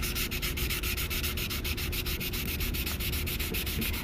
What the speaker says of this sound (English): just start sanding on the plastic until you see it totally smooth out